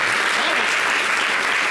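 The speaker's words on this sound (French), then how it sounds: "Il faut applaudir Madame la ministre." An audience applauds a government minister during a French-language television talk show, a dense steady wash of clapping filling the whole short stretch with no voices standing out.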